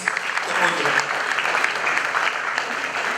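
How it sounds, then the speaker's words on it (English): Audience applause for student performers of a fusion dance as they come out on stage at a school graduation ceremony, a steady dense clapping that holds evenly throughout, with a faint voice underneath. "a round of applause for them as they come out"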